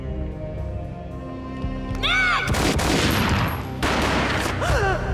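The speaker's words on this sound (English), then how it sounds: "A gunshot boomed and she fell down in slow motion." Gunfire in the video game Max Payne: sudden loud booming bursts of shots at about two and four seconds, ringing over a steady music bed, with broadband crack and decay between.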